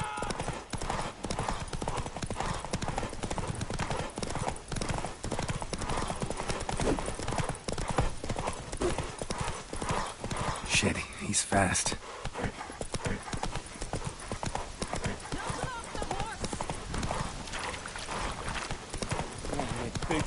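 Hooves pound in a continuous rapid gallop as Roach, the horse from The Witcher 3, races along, with someone briefly speaking over the hoofbeats midway and a sharper burst of noise around the middle.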